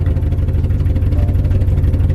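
A turbocharged Mercury Marauder's engine idles steadily with a low, even rumble and a faint rhythmic pulse, close by and continuous with no talking.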